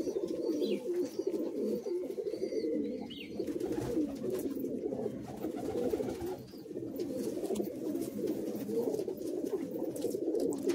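Madrasi high-flying pigeons coo continuously inside a loft in Kolkata, a dense overlapping murmur of soft throaty calls at moderate volume, with faint background noise and no talking.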